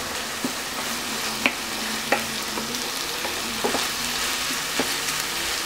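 Minced meat seasoned with salt, cumin and black pepper fries in a pan with a steady, close sizzle, punctuated by several sharp scrapes and clinks as a utensil stirs it.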